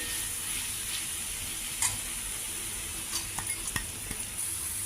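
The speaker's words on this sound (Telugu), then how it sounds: "పెసరపప్పు ఫ్రై అయింది" Soaked moong dal fries in a pan and is stirred, giving a steady sizzle close by, with sharp scraping and clinking strokes of a utensil against the pan toward the end.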